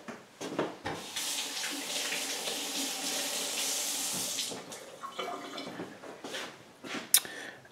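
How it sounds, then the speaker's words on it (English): Tap water runs steadily into a sink while a knife is rinsed, a continuous splashing hiss that lasts several seconds, with short bursts and drips trailing off near the end. "I'm going to rinse this off again."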